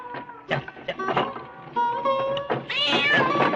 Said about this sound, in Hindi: देख तो बिल्ली रास्ता काट गई।